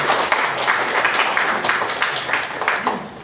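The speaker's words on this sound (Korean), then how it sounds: "박수 한번 쳐드려요" An audience at a church lecture claps in a steady, dense round of applause. The lecture is a special talk at a monthly Mass for the Incheon diocese disabled persons' association. The sound is moderately loud and fills the whole moment.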